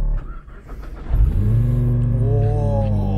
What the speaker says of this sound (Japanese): エンジンかけますか。かけてみる。